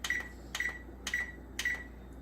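Four short electronic beeps from an oven control panel as buttons are pressed to set it to bake at 375, evenly spaced about half a second apart, close and clear over a quiet kitchen background.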